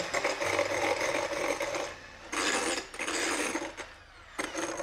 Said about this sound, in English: Now, to start with, you need to whisk up your eggs.